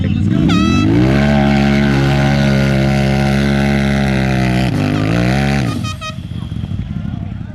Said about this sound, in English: we got Ashley in the RMAX versus Jared in his Razor Pro